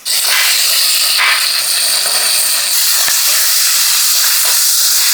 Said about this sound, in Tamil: ஆயில் ஹீட் ஆகிடுச்சு இப்போ நான் வெங்காயத்தை போட்டுருவோம்